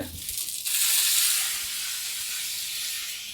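A tempering for sambar sizzling in hot oil, a sudden sharp burst of hissing spatter that swells loud and close, then settles into a steadier sizzle, with no voices.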